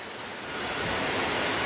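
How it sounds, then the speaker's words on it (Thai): Loud rushing flash-flood water surges and roars in Loei, Thailand, a broad steady torrent that swells slightly louder toward the end. "น้ำมาแรงมากค่ะ ขึ้นเรื่อยๆนะคะ"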